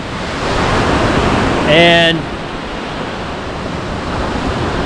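Lake waves and surf while foil surfing and downwinding on the Great Lakes, a steady broadband wash of water and wind noise throughout, with a brief spoken word partway through.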